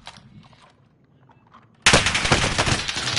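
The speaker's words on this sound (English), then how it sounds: "He's shooting me from the cracks." Rapid automatic gunfire from a video game shooter bursts in loud and close after a quiet stretch with faint background sounds. It continues as a dense fusillade to the end.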